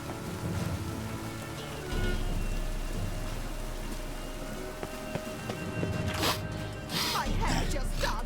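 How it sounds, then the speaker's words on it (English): Steady rain falls in The Witcher 3 video game, a soft constant patter throughout with faint background sounds and a couple of brief louder splashes toward the end. "The rain will ruin it."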